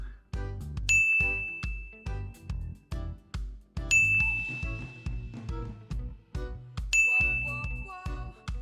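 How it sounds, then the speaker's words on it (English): Notification dings from a headset, picked up by a MAONOCASTER lite microphone, three bright chimes spaced about three seconds apart and ringing over a repeating rhythmic background pattern. "the microphone picked up the sound from my headset, so you can see that it is rising every time the ding is heard"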